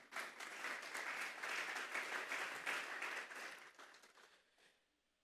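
Church congregation applauding together, a steady dense wash of many hands that holds for several seconds before thinning out and fading away at the end.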